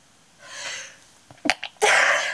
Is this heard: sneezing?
yes